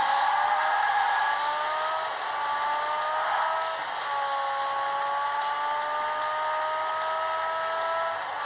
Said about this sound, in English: I've just hit this other car.